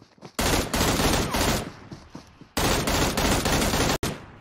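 Loud automatic gunfire in the battle royale game Game for Peace, two long sustained bursts of rapid shots separated by a brief lull, close and dominant with no talking.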